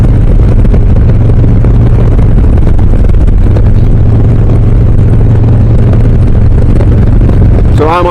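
Harley-Davidson Low Rider S motorcycle cruising a highway at about 62 mph in fifth gear under 3,000 RPM: a steady, loud low engine drone mixed with heavy wind rush, unbroken throughout.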